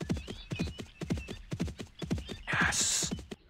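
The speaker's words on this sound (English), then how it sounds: "Can't get beaten by a horse called Button." Galloping horse hooves pound in a fast, steady rhythm in the PlayStation racing game Barbie: Race and Ride, close and loud, with a whinny and a bright chime-like effect near the end.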